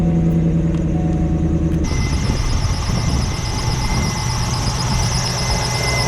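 A Corvette engine starts and runs with a loud, sustained high squeal from a faulty belt tensioner over the rough idle. The noise is close and constant with no speech.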